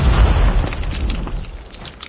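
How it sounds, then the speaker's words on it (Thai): A thrown grenade detonates in a shooter video game, a single heavy, deep boom right at the start that rumbles and fades over about two seconds into a softer crackling tail. "ปาระเบิดไว้ก่อนระเบิดไว้"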